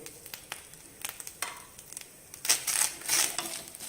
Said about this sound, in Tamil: தேங்காய் போட்டு ஒரு 2 நிமிஷம் ஃப்ரை பண்ணியாச்சு.